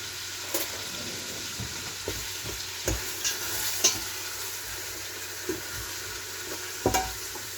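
Meat and onions sizzle steadily in a pan for Moroccan couscous, with a fork scraping and stirring at irregular intervals, each stroke giving a sharp clink over the continuous frying hiss.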